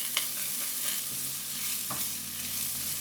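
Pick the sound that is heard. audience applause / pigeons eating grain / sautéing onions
sautéing onions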